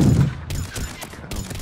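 Gunfire from the Mass Effect 3 demo comes as a short, loud burst of rapid shots that trails into a few fainter cracks.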